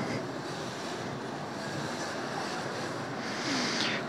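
A water spray washes down a 50cc motorcycle at a wash bay, giving a steady, close hiss that holds at an even loudness throughout with no voices.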